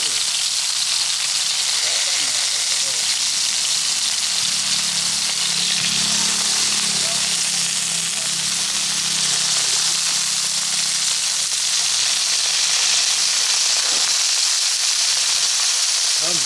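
Snake meat wrapped in lolot leaves fries in a pan, giving a steady, close hissing sizzle that runs unbroken throughout, with faint kitchen clatter and a low background hum.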